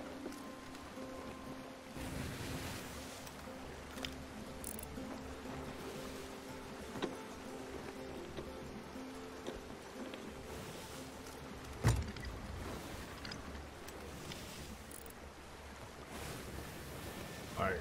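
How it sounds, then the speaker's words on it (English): Wind and ocean waves rush steadily while a ship sails in Sea of Thieves, with one louder splash near the middle and no voices. "Alright, we got some wind."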